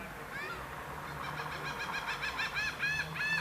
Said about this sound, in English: You hear the seagulls?